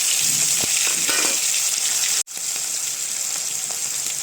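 Shrimp fry in hot oil with dried chillies and cumin, giving a steady, close sizzle with a few soft stirring clatters and a brief dropout midway.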